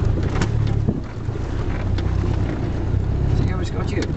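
A 4x4 off-road vehicle creeping down a hill with no clutch and feet off the pedals, on an off-road driving course in Shropshire, gives a steady low engine drone and cabin rumble throughout, with faint voices underneath.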